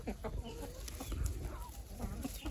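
Free-range native country chickens cluck softly and repeatedly while grazing on cut green grass, with scattered close calls over a low outdoor background and no speech.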